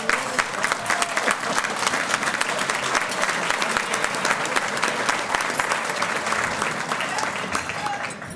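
Sustained audience applause fills a conference hall at a New York State Association of Counties legislative gathering, a dense, steady wash of many hands clapping at even loudness for over eight seconds.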